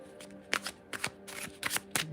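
Playing cards being shuffled for a pick-a-pile reading, several quick riffling bursts in close succession, close but fairly quiet, with no voice.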